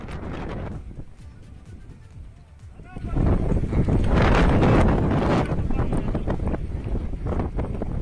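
Strong wind from Cyclone Yaas roars and buffets the microphone by a river at a pontoon bridge, a loud, broad rushing blast that swells suddenly and stays heavy, with some faint voices under it.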